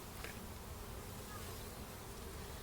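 Honey bees swarm-ready at a hive topped with flow-hive honey supers give off a dense, steady, close buzzing that holds without a break from start to finish, with no talk over it.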